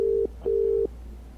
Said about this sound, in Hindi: उसने अपना मोबाइल फोन निकाला और एक नंबर डायल किया।